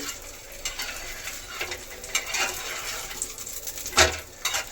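Wheat flour kara adai frying in oil on a pan gives a faint, steady sizzle broken by soft scraping and clinks of a spatula, with one sharper knock near the end.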